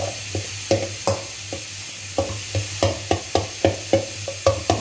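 Eggs sizzle and fry in a pan while a spatula stirs them for fried rice, giving regular scraping strokes roughly twice a second over a steady frying hiss, close and clear with no talk.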